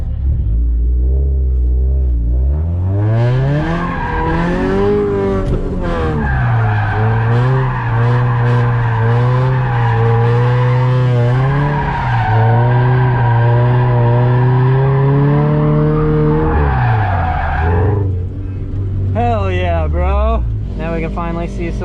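Scion FR-S drifting at a drift event, engine revving and rising and falling in pitch with squealing tires, loud and close throughout, with a voice cheering over it near the end.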